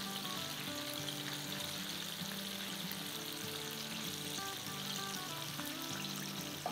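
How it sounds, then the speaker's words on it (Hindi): Chicken malai pakoras deep frying in oil over medium-high flame, a steady bubbling sizzle at moderate level with no other sounds. "अब इसे हम 3-4 मिनट तक और भी फ्राई करेंगे"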